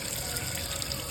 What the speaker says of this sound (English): When you're straining your rice or pouring the water out, a cup of rice might, jump ship.